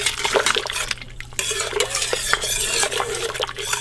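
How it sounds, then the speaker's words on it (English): Sugar is stirred in a pot on the heat to dissolve it for homemade ginger beer, a continuous close scraping and swishing of a utensil against the pan with faint clinks. "just stir that up so you make sure that it's all dissolved"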